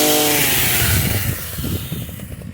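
A Proyama 5 in 1 garden trimmer cuts a branch, its small motor loud and close, whining high at first and then dropping into a rougher, bogging buzz as it bites the wood.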